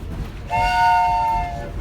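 A passing train on the Santa's Christmas Express ride in Mount Dora, Florida sounds a steady horn-like whistle tone over a low rumble of rolling cars, fairly near and without talk.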